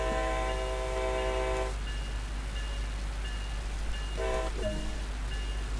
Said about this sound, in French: on se retrouve avec un avertisseur sonore et deux coups